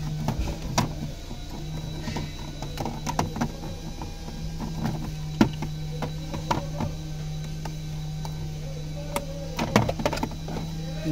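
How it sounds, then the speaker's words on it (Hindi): Screws being undone with a socket on the dashboard of a 2011 Chevy Traverse: scattered close clicks, small metallic ticks and plastic creaks spread unevenly across the clip over a steady low hum, with no talking. "तो इसको निकालता हूँ मैं। तो चलो अपना ये पहले निकल गया। दो सॉकेट है इसमें"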